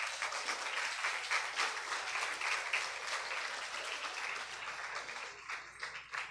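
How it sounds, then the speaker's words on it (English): Sustained applause fills a school leaving ceremony as the class of 2024 stands to honour their teachers, a steady, dense wash of many hands clapping at moderate distance, tapering slightly near the end. "Please stand and give a round of applause to your teachers."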